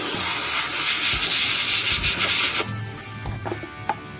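A Lematec sandblaster blasts media after its valve is opened, producing a loud, rushing hiss for a few seconds that then cuts off, leaving quieter scattered knocks.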